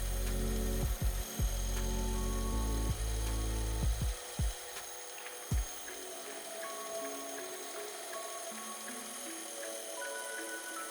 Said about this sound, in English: we're going to head over to the bandsaw and cut our blank in half